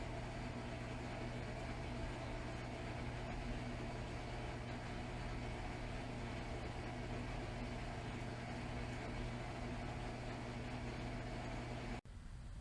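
A Maytag Centennial HE washer drains water with a steady, loud mechanical hum and pump drone that runs unbroken, then cuts off abruptly near the end.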